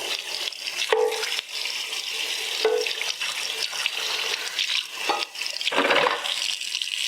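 Tap water runs and splashes while a vegetable chopper and knife are rinsed under it, with intermittent clatter and bursts of spray, close and fairly loud throughout.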